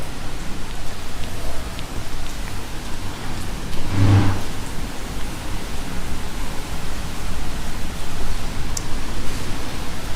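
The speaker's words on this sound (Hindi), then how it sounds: "बहुत तेज बारिश हो रही है भाई बाहर।" Heavy rain falls outside, a steady dense hiss that holds evenly and fairly loud throughout, with a brief swell near the middle.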